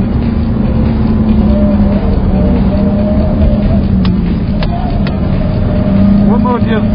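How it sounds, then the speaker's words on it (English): Cadillac CTS-V engine heard from inside while driving, steady loud drone with pitch changes as the automatic shifts and blips a downshift. "You can hear it downshift, match travel by itself."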